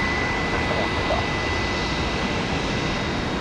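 An American Airlines jet on the runway at Tampa International Airport gives a steady, even engine roar throughout, moderately loud and unchanging, with no talk.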